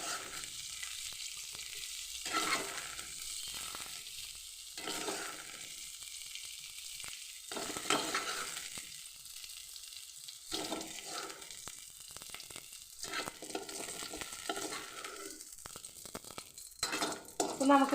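Sautéed chammanthi ingredients (small onions, coconut, curry leaves, tamarind, chili) are scooped out of a hot pan with a steady soft sizzle. Scraping and stirring strokes recur throughout, fairly quiet and with no talk.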